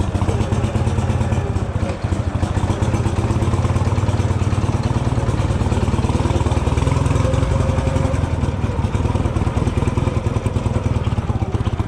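A motorcycle engine runs steadily and loudly throughout as the rider sets off, a continuous mid-pitched drone with a slight rough clatter and no pauses.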